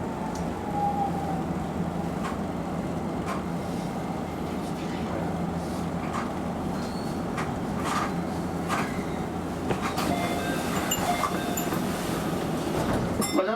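Keio Inokashira Line express train pulling out of Meidaimae station toward Shibuya, heard from the front cab: a steady low rumble and hum with faint rail clicks building slightly near the end, and no speech over it.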